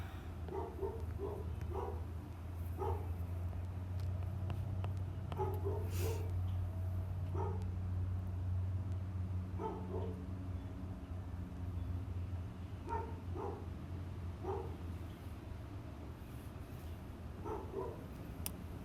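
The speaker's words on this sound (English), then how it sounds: "Can you all hear my dog barking?" A dog barks repeatedly in short bursts and clusters, fairly close, over a steady low hum, with a few higher yips mixed in.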